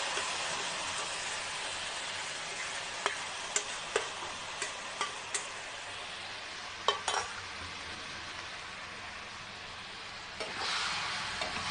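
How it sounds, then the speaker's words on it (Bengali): Grated raw mango mixture is stirred in a pan over low heat, with a soft continuous sizzle and a scattered series of light ticks and scrapes as the spoon knocks against the pan. "আমি এটা নাড়তে থাকবো যতক্ষণ না এটা ঘন হয়ে আসে"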